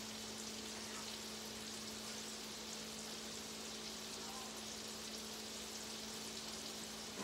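Brussels sprouts and bacon brown in a pan with a steady, even sizzle that carries on without a break, accompanied by a faint low hum.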